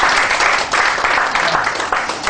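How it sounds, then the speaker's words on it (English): Audience applause at a speech event, steady dense clapping from many hands, fairly loud and filling the whole short stretch with no spoken words over it. "You guys are clapping."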